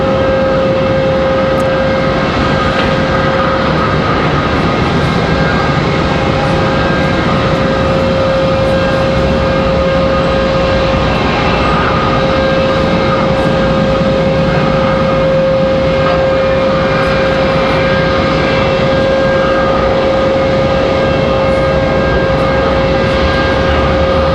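A JetBlue airliner's jet engine spooling up on the ground at Raleigh-Durham International Airport, a steady whine and rumble with a sustained high tone, heard alone without talk.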